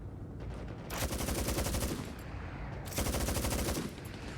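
Bursts of rapid automatic gunfire from the video game Hell Let Loose: Vietnam, two sustained volleys of about a second each separated by a short pause, loud and sharp with no talking.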